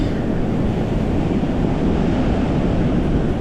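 Heavy wash of sea water surging over a jetty at Stenhouse Bay, a steady broadband rush of surf and wind that fills the whole clip, close and loud with no talk.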